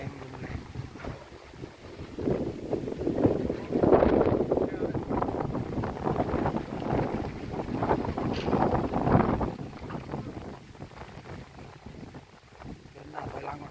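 Strong wind buffets the microphone on a rooftop during roof work in Surin province, Thailand, a loud continuous roar that swells and gusts for most of the stretch before easing slightly near the end.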